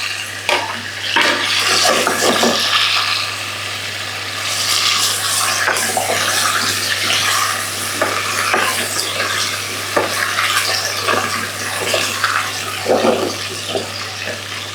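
Potatoes and carrots fry with onion in a little oil in a cooking pot, giving a steady close sizzle with repeated stirring and scraping over nearly fifteen seconds, with no talk.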